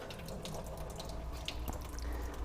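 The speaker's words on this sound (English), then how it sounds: "So these vegetables, we're just going to rinse them just like they do in the grocery store" Running water from a sink tap splashes over vegetables being rinsed, a steady close hiss with small irregular spatters and drips throughout, no talking.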